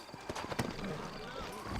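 Horse hooves clip-clopping in the Western video game Red Dead Redemption, a quick rhythmic patter of a horse on the move, heard under character dialogue and game sounds.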